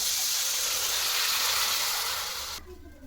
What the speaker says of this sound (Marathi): यामध्ये आता 1 ग्लास पाणी टाकून घेऊ आपण।